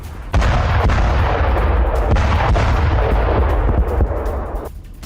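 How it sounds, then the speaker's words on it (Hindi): Rockets fired one after another by Russian paratroopers at a Ukrainian military post in the war in Ukraine: a loud, sustained roaring blast of launch fire with heavy low rumble, running nearly continuously before tailing off near the end. "रूसी पैराट्रूपर्स ने यूक्रेनी पोस्ट पर एक के बाद एक रॉकेट दागे"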